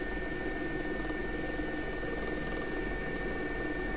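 A simulated SA-342 Gazelle helicopter flying in X-Plane 11 as a Scottish air ambulance, a steady loud rotor and turbine drone with a constant buzzing hum throughout, no talk.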